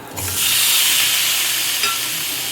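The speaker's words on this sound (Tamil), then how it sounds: "நல்லா கிளறி எடுத்துடலாம்" Boiled potatoes being stirred with masala in a hot pan, a dense frying sizzle and hiss with a brief scrape of stirring near the start, close and steady.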